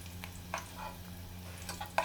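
Carrots and raisins sauté gently in oil over a low flame, a quiet intermittent crackle and light stirring scrapes, close and without voices.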